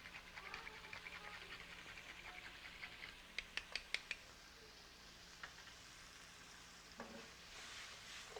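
Shrimp frying in a pan with nutmeg as a base for risotto gives a faint, steady sizzle, with a few soft clicks of stirring partway through.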